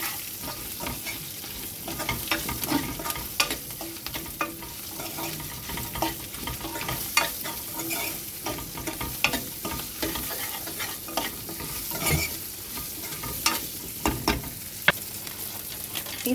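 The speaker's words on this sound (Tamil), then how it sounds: "இது நல்லா வதக்கி விட்டுப்போம்." Ground masala with salt sizzles as it is sautéed in a pan, a steady close frying hiss broken by frequent scraping stirs of a spoon against the pan, with no talking.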